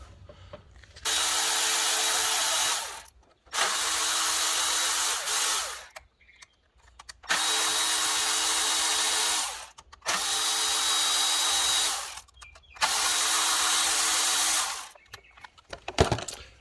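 A power tool running on the oil filter housing bolts of a 2014 Jeep Grand Cherokee 3.6L V6, five loud sustained whirring bursts of about two seconds each separated by brief pauses, no talk.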